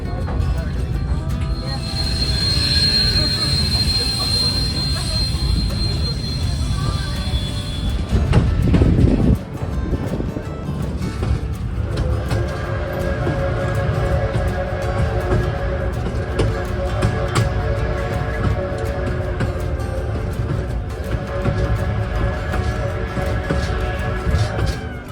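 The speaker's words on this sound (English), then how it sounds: "I thoroughly enjoy the sound of a steam engine working upgrade" A Cumbres & Toltec steam locomotive working upgrade, a steady heavy rumble with rolling train noise and wind buffeting close to the microphone, a brief louder burst partway through.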